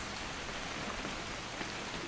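Steady rain falling in the video game What Remains of Edith Finch, a soft continuous patter of drops on surfaces, fairly quiet and unbroken with no talking.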